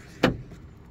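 A rear door on a Skoda Fabia 1.2 TSI Monte Carlo opens with a single short, close latch clunk, followed by a quiet tail.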